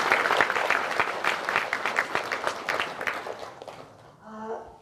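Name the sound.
audience applause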